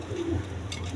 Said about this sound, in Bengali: এখানে এক পেয়ার লাহোরি কবুতর আছে